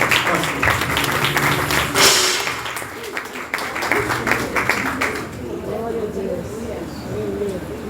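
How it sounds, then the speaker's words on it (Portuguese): Church congregation claps together in praise during a service, a burst of crowd clapping that tapers off midway, followed by quieter voices and room noise. "Vamos louvar Deus com nossas palmas."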